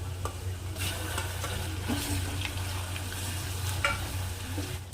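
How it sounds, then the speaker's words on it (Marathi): Ground masala paste frying in oil with onion for a village-style egg curry crackles in a steady low sizzle, broken by repeated scraping taps of a spoon against the pan. "छान तेलामध्ये याला परतत राहायचं आहे"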